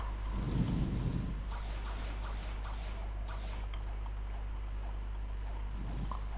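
Steady rain hiss with a deep low rumble of thunder near the start in a Roblox game, a continuous stormy wash under faint scattered sounds.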